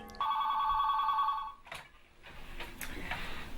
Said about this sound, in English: I hear another call.